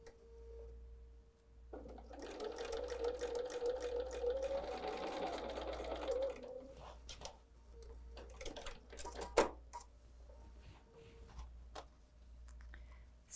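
A sewing machine stitches a leaf or bear paw quilt block in a quick, steady whirring run of about four seconds, followed by a few soft clicks and handling noises, close and fairly quiet.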